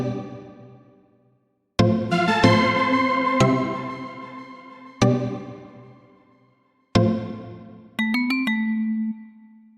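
A bell-like synth lead made with a VST in FL Studio plays separate bright chimed chords and notes, each ringing and decaying, then ends with a quick run of repeated plucks and a held tone.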